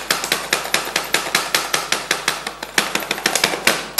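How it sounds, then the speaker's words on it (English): Garlic and ginger being chopped with a knife on a cutting board, loud close rhythmic knocks in quick succession with a brief stutter partway through, no speech. "what I have to do is just chop this."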